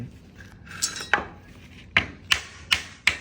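Wooden dowel being hammered into a drilled hole, six sharp knocks, the last four coming in a steady rhythm, close and fairly loud, with no speech.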